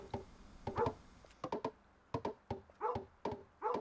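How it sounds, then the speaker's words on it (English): A dog in the video game Kingdom Two Crowns barks in a quick series of sharp, close, fairly loud yaps, spaced in short bursts with brief pauses between them and no talk over it. "doggo is barking in this direction"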